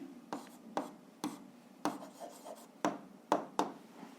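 A pen writes answers in a notebook in short, scratchy strokes, about eight quick bursts at close range, alone and fairly quiet.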